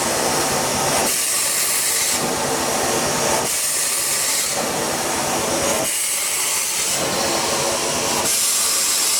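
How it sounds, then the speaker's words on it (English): Steam hisses loudly from a leaking pipe on an 1895 Bates Corliss steam engine, a broad close roar that swells and drops in regular pulses about every second or so, with no voices. "I think one of these pipes are broke and we're leaking steam pressure from inside here"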